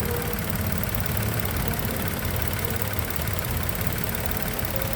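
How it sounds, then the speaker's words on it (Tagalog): A car engine idles steadily after its body ground wire is removed, a loud, continuous rumble with a slightly rough, knocking pulse and no talking. "Titingnan natin kung titining yung makina o magiging okay."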